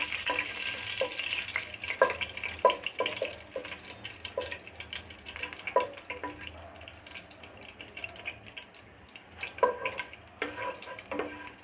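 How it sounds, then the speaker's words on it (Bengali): Garlic and fenugreek seeds fry in hot oil for a chicken curry, giving a steady close sizzle with scattered clinks and scrapes of stirring throughout, with no talking. "রসুন আর মেথিটা যখন ভাজা হয়ে যাবে"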